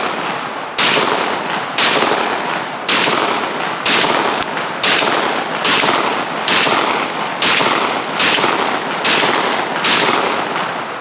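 A pistol fires Buffalo Bore 180 grain ammunition in a string of about ten loud, sharp gunshots spaced roughly one second apart, each with a short ringing tail.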